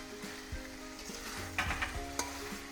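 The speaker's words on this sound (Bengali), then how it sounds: "এখন আমি এটা কিছুক্ষণ মশলাটাকে কষতে দেবো" Spice paste with green chilli and chopped tomato frying in a pan for a vegetarian papaya curry, a quiet sizzle with a few sharp clicks of a spoon against the pan.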